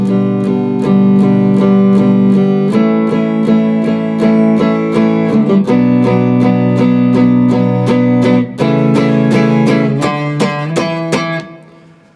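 Steady strummed acoustic guitar chords for the middle eight of a song, played alone in an even rhythm, close and full, ending on a final ringing strum.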